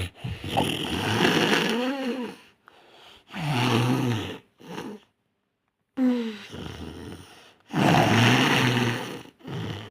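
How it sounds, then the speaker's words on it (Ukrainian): A person asleep snores in slow, regular cycles: rough, rasping breaths with pauses and near-silence between them, close and alone without any talk. "знову заснув, да ще й хропить"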